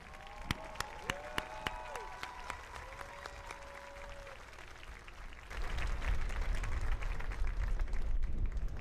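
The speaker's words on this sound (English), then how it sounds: "Round of applause, everybody." At a Sunset Park High School graduation, the audience applauds the graduates. Sparse, sharp claps and whistle-like tones come first, then the clapping swells into fuller, louder applause with some cheering.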